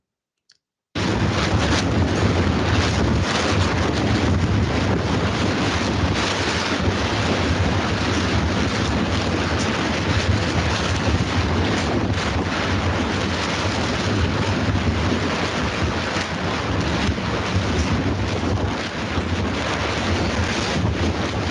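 Strong wind gusts of about 64 km/h roar steadily against the microphone over a cherry orchard with a retractable roof, a loud continuous rushing buffet that starts abruptly and persists without letup.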